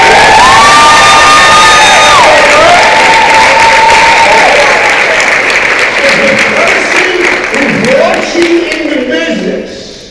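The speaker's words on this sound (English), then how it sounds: "Let's give all the VPs a applause." Loud applause and cheering from a large audience at a CEO summit, with whoops and shouts riding over dense clapping that gradually fades.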